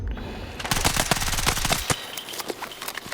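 Rapid automatic gunfire rattles in Battlefield 6, a fast burst of loud, evenly spaced shots lasting over a second, followed by scattered single shots and clatter.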